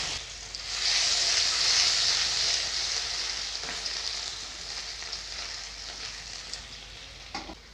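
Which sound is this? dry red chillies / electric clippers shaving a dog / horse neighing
dry red chillies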